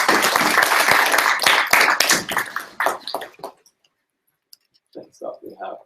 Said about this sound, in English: round of applause from there